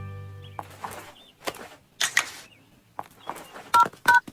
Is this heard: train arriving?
no